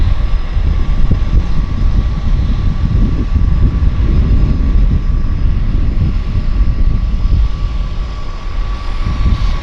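Airplane flying near Vancouver Harbour Airport, a steady broad engine drone holding loud and continuous throughout with a faint constant tonal hum, no voices over it.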